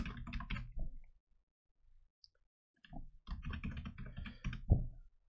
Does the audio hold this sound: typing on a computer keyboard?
yes